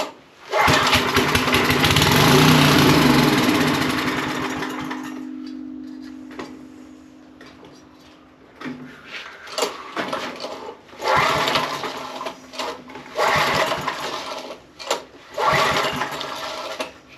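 A 20-plus-year-old Coleman Powermate 2250 generator engine roars loudly up close for several seconds after being brought back to life, then sputters and dies away, followed by a few short bursts as it tries to catch again.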